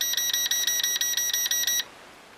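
Eachine E511s drone beeps while its camera tilts down, a rapid even series of about a dozen high electronic pips, close and clear, ending abruptly into quiet.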